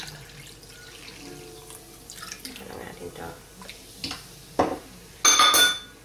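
Tap water running at a kitchen sink as a hand is rinsed, starting with faint clinks and drips and building to a short close burst of flowing water near the end.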